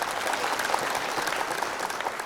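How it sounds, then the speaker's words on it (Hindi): Applause from the audience at a Hindi comic poetry gathering (hasya kavi sammelan) cheering a poet: dense, continuous clapping filling the room at close range, with no voices over it. "एक बार तालियां बजाए जोरदार भाई साहब के लिए।"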